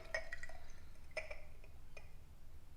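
Buttermilk is poured off freshly churned butter in a kitchen, giving faint liquid trickles and a few soft drips with light glassy clinks, quiet and close.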